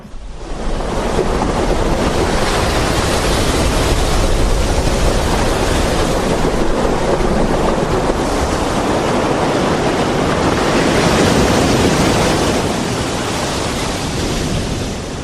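Huge waves crash continuously onto a rocky Brazilian coast at low tide. The surf is loud and close, with a dense, steady roar that swells and eases slightly across the whole stretch. No voices are heard.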